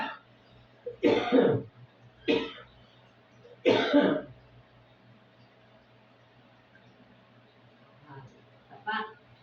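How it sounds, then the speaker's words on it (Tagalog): Several harsh, throaty coughs from people in a home, three main bursts in the first half spaced a second or more apart, then fainter coughs later against a quiet background hum. "Inuubo kayo ng tatlo ah."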